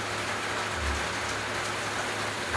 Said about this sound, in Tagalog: Kagaya ngayon, maulan na araw.